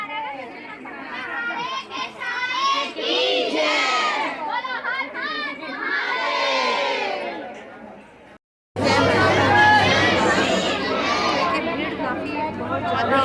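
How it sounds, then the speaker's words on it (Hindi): A dense crowd at Kalkaji temple around midday fills the air with a steady murmur of many voices and children's chatter, while someone talks close over it throughout. "ये देखिए भीड़, देखिए आप कितनी ज़्यादा, देखिए रश।"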